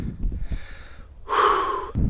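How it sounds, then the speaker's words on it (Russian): A man out of breath after climbing a steep hill toward a lookout breathes heavily, with a long loud panting exhale near the end between rougher close breaths. "Но я запыхался."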